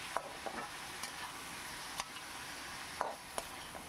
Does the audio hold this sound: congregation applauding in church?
no